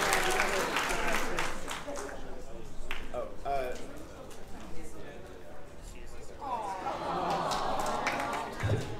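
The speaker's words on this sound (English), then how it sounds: "Big round of applause for Tommy!" Convention crowd at a 2023 fursuit dance competition clapping and cheering for a dancer, uneven applause under an announcer's amplified voice talking throughout.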